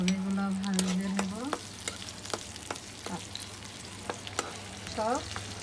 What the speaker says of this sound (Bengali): এরপর মরিচ পেঁয়াজ দিয়ে দেব, তেল দিয়ে দেব, সুন্দরভাবে এগুলো ভেজে নেব